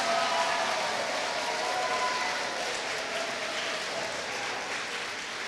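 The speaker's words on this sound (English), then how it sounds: "I'd like everyone to please give them one extra special big round of applause." A large audience at the 2016 SaskEnergy Willow Awards Gala breaks into a dense, steady round of applause for the Willow ambassadors, sustained and fairly loud throughout, fading only slightly toward the end.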